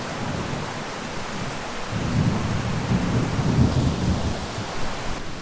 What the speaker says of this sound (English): Now it seems like we're going to lose power here during this storm.